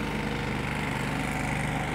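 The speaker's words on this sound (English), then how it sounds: "You can see that the machine follows the predefined mowing line." An autonomous mowing machine runs on a solar field, its engine giving a steady, continuous mechanical drone with no pauses or voices.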